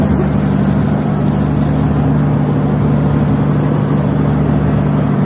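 Steady, loud motorboat engine drone from a bangka in Tangos, a constant low rumble running without a break and no voices.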